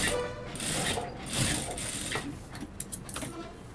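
A sewing machine stitches a lined blouse at the neck edge, running steadily and close with a fast mechanical chatter that breaks off into a few sharp clicks near the end.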